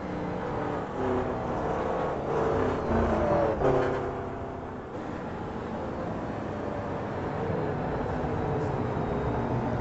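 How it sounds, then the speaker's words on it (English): Grand Am race cars circle a formation lap, a broad steady roar of several engines at moderate distance with occasional swells of revving. "coming round the end of this formation lap, hopefully we get a clean start"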